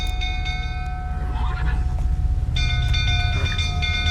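Horses whinny in alarm inside a burning stable in The Witcher 3, over a loud low rumble and a steady high tonal hum. Shrill cries rise in the middle of the clip and again near the end.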